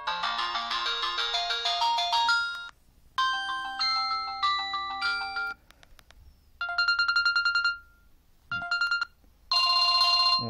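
A Samsung GT-E1200 (Keystone 2) basic mobile phone playing its preset MIDI ringtone, bright synthetic melodic bursts separated by short gaps, moderately loud and close with no talking.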